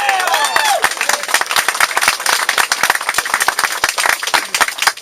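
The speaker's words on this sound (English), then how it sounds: "Give yourselves a round of applause." An outdoor crowd at a water charges protest applauds loudly, with sharp, close individual claps in a brisk uneven rhythm and a few cheers at the start.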